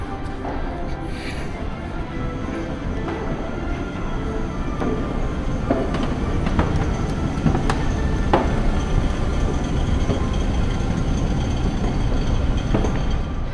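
A historic streetcar pulls into an underground station near the High Level Bridge, a steady rumbling roar with scattered metallic clicks and rattles that grows slightly louder partway through, heard alone without talk.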